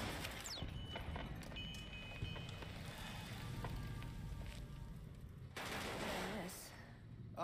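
Rapid automatic gunfire from ceiling-mounted machine gun turrets in the video game Fallout: New Vegas, sustained bursts with game effects, loud and continuous through the clip, ending in a sharper burst.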